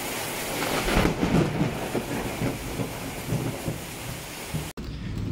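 Steady heavy rain roars continuously with low rumbling thunder underneath, loud and close, ending abruptly.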